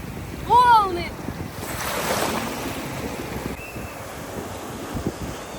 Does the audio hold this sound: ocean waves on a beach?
yes